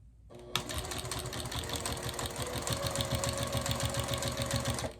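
A sewing machine stitches binding onto a quilt, starting abruptly after a brief pause and then running in a fast, even mechanical chatter that stays steady and close to the end.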